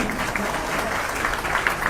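Steady audience applause at a Ugadi festival function where a minister gives new-year greetings and almanacs are handed out, a dense even patter of many hands kept at a constant level for the whole stretch.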